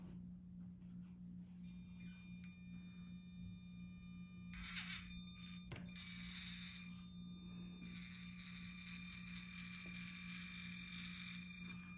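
An SCX24 RC crawler with a 66-turn brushed motor and metal transmission creeps along in low gear, giving a faint, thin high-pitched motor whine that rises and falls over a steady low hum.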